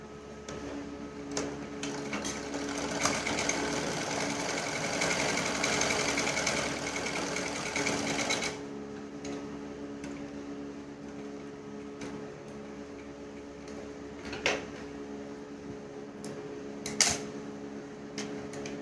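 Sewing machine running steadily as it stitches fabric for rope and tassel necklines, a continuous close mechanical drone for about eight seconds, then quieter background hum with a few faint clicks.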